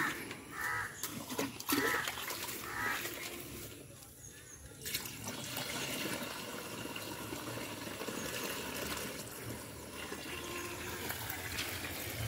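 Water is poured to fill a sprayer tank for a fish amino acid mix on a farm, with a steady close splashing flow and crows cawing nearby early on.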